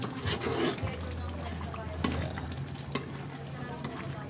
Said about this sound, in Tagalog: Haluin na lang natin siya guys at saka patuyuin.